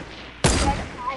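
A single sharp sniper rifle shot in the video game Fortnite, a sudden loud crack with a short decaying tail, heard once amid game background.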